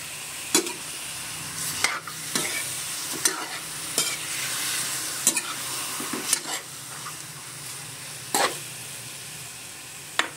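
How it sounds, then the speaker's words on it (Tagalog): Chicken adobo with black pepper sautés in a pan with a steady, close sizzle, broken by periodic scraping stirs and a few sharp utensil clicks against the pan, with no talking. "Gigisa lang natin sa paminta."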